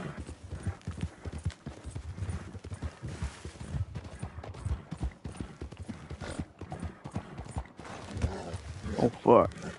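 Hooves clip-clop in Red Dead Redemption 2, a dense, steady gallop close by, with a brief horse whinny near the end, while someone talks over it.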